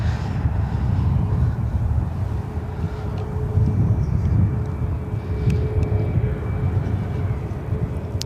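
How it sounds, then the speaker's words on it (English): A Delta Connection SkyWest Embraer E175 jet arriving at LAX, a steady low engine rumble with a faint whine, buffeted by wind noise and lightly under talk. "First arrival of the stream here today is Delta Connection SkyWest Flight 3863, coming in from Sacramento in an E175."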